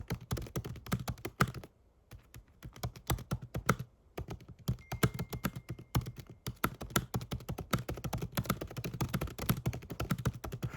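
Fast, steady typing on a computer keyboard close by, crisp clicking keystrokes in quick bursts with a couple of brief pauses, no talking.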